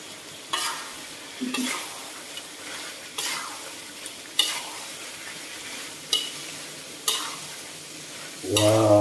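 Chopped big onion frying in an oily pan for chilli prawns, with a steady soft sizzle broken by repeated stirring scrapes at roughly one-second intervals and a louder clatter at the end.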